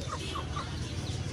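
An Aseel rooster clucks several times in quick, agitated bursts, close and fairly loud, over a low rumbling background.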